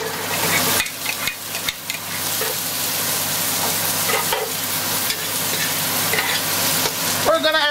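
Onion sautéing in a pan gives a loud, steady sizzle and frying crackle with stirring scrapes throughout, up close and without talk.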